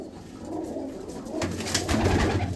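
Green pigeons of a prized old Punjabi breed coo in a loft, a low continuous throaty burble that grows louder partway through, close and dense with several birds.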